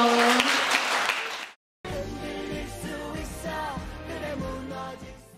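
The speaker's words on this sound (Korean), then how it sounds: "큰 박수 받아주세요" Applause from a school audience welcoming a teacher onto the stage: dense clapping with music underneath, a brief silent gap, then music and ambient sound continue.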